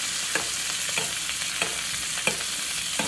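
Hot butter sizzles steadily in a frying pan as cod is basted, with a constant bright hiss and soft periodic clicks of a spoon scooping and pouring the fat.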